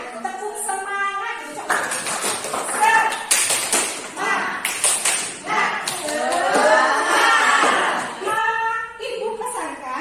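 Grade 10 biology class at SMAN 2 Ulubelu doing the 'tepuk semangat' rhythmic clap, with patterned bursts of group clapping alongside chanting student voices, moderately loud in a classroom.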